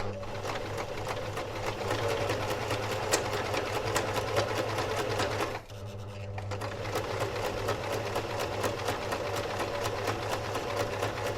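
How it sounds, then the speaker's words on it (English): A sewing machine stitches along the line of a hair weft while making a drawstring ponytail, running steadily and fairly loud with a brief pause midway before the stitching resumes, no talking over it. "you want to be careful and make sure that you sew it exactly on the line where you've made your stitching"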